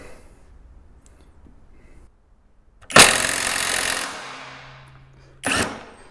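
An Ingco cordless impact wrench busts a nut loose with a loud, close, hammering burst of about a second, then a steady whir that fades as the tool stops itself, followed by a short second burst.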